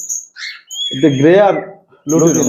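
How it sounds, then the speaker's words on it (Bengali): Lutino cockatiels give shrill, high chirps and squawks, a burst at the start and thin whistles returning near the end, close to the microphone while someone talks over them. "এখানে আছে দেখতে পাচ্ছি ভাই কোকাটেল লুটিনো কোকাটেল"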